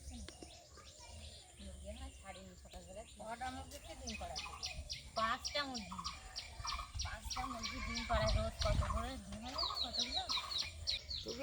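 Large free-range village chickens cluck and chirp in a rural yard, busy and fairly close, mixed with people chatting nearby throughout.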